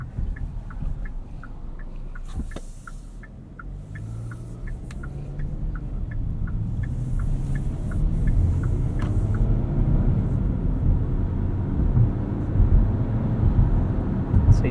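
A 2022 Hyundai Tucson XRT AWD with a 2.5-liter four-cylinder and eight-speed automatic hums low and muted from the cabin while driving. The engine rises gradually over the stretch, and a regular ticking runs through the first part.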